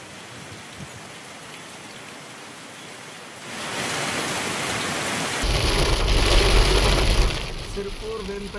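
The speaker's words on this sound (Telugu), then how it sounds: "సిర్పూర్ వేంపల్లి రహదారి మధ్యలో భారీ వర్షం." Heavy rain lashes a road between Sirpur and Vempalli, a steady roar that swells louder midway with a deep rumble of thunder before easing slightly.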